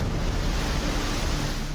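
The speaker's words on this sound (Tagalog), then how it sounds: "hinampas na ng malalakas na alon." Large waves from Typhoon Pepito crash continuously against the coast of Catanduanes, a loud, dense roar of surf mixed with wind buffeting the microphone.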